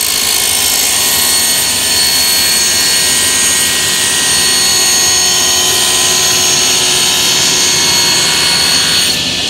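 A table saw runs loud and close with a steady high whine while cutting wood for a hedgehog house, an unbroken roar across the whole stretch.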